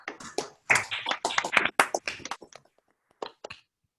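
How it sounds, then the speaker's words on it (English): Participants on a video call unmute and clap together, producing a loud, ragged burst of overlapping hand claps for about three seconds that thins to a few scattered claps before fading out. "let's try to give Jaime a realistic sound of applause"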